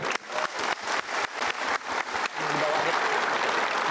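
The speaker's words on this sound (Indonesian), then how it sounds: "Oke, kita berikan tepuk tangan." An audience claps through a series of rhythmic bursts that swell into steady, dense applause, loud and close with no talking over it.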